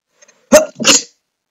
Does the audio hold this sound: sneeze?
yes